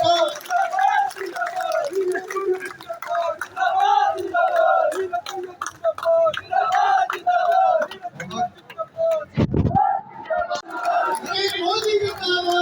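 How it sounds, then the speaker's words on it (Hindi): A crowd at a BJP workers' felicitation ceremony welcomes the young leader Neeraj Singh with loud, sustained cheering and chanted shouts from many voices, rising and falling in waves, briefly broken by a sharp thump near the end. "एक बार आप सब हाथ उठा के जोरदार तालियों से अभिनंदन करें"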